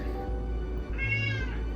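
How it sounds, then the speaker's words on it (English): A house cat meows insistently near a holiday dinner being cooked, one drawn-out, rising meow with bright harmonics standing out over a steady low hum, close and fairly loud, with no talking. "My cat wants some."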